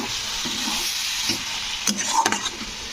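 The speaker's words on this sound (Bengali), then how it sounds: "তো এবারে আমি বাটা মশলাটা দিয়ে দিলাম তো দিয়ে এটাকে একটু একটু নাড়াচাড়া করতে হবে" Green tomato curry being stirred with ground spice paste in a pan, a steady close sizzle under soft scraping strokes, with a few louder stirring knocks toward the end and no talking.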